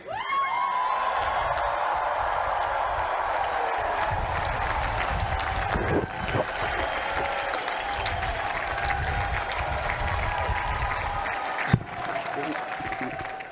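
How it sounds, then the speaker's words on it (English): A large crowd of graduates at the MIT 2022 commencement cheers and applauds in a sustained, dense roar that holds steady for the whole stretch, with scattered shouts rising above it. "I need everyone to cheer."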